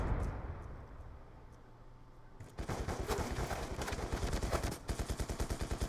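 Rapid gunfire bursts in Call of Duty Black Ops 2 multiplayer, quiet at first and then a loud, dense stream of repeated shots with a brief gap and a final run of evenly spaced blasts, close and without talk.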